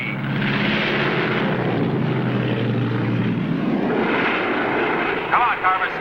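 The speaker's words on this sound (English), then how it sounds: "Susanna, handle this plane. Don't manhandle it. Easy on the aileron" A single-engine propeller training plane drones steadily in flight, its engine tone holding under a voice giving instructions, with a brief bump near the end.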